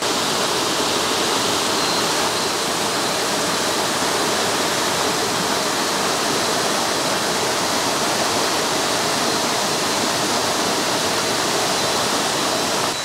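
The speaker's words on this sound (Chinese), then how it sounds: "我已经爬到马武都瀑布了" Mawudu waterfall in a forest, a loud, steady broadband roar of falling water close by, unchanging throughout with no voices.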